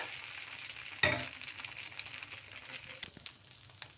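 Bottle gourd dosa batter frying on a hot pan on high heat, a soft steady sizzle with a sharp metallic clink near the start and a few faint scraping sounds afterward.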